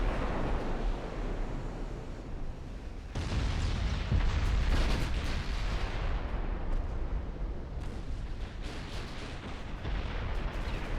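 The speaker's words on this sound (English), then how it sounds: "big rounds hitting the Goliath" Big naval shells striking the battleship Goliath in a naval warfare game, a rolling series of heavy booms and blasts over a continuous low rumble, loud and dense, with no talk.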